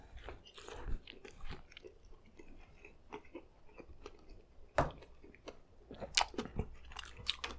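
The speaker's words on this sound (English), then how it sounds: "So I'm gonna go in for a bite." Someone bites into a McDonald's double cheeseburger and chews it up close, with soft crunches, wet squishes and irregular mouth sounds, fairly quiet, and no talking.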